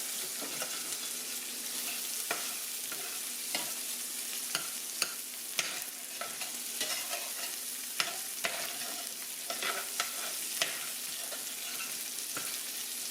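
Hamburger meat browns lightly in a pan over low heat, a soft continuous sizzle broken by frequent small scraping clicks of a stirring utensil, fairly quiet and with no talking.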